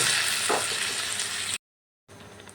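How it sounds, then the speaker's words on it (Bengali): Cabbage and lentils sauté in a pan with a steady, close, hissing sizzle and some stirring. The sound cuts out briefly, then comes back softer. "এরপর ডালগুলো দিয়েও আবার এই বাঁধাকপির সাথে ভালো করে কষিয়ে নিতে হবে"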